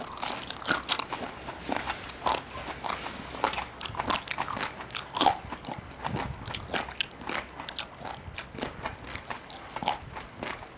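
Loud, close crunching of a crunchy bullet jellyfish snack being chewed, steady repeated bites and crackles with no talking.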